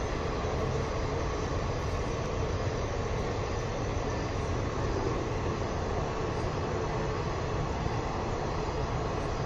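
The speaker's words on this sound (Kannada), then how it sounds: "ಆ ಟ್ರೈನ್ ಸೌಂಡ್" A train rolling past an abandoned, collapsed factory, a steady loud broadband rumble and roar holding evenly throughout with no voices.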